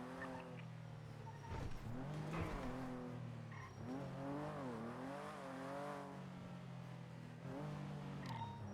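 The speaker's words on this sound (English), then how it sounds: "I may have just heard a sports car to the east" A revving sports car engine in the video game NoPixel 4.0, with rising and falling pitch, steady and fairly loud, sweeping up and down as it accelerates and slows.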